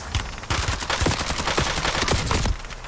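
Rapid automatic gunfire from Warzone in Verdansk, shots punching through a wall in a dense, loud burst lasting a couple of seconds, with brief quieter moments before and after.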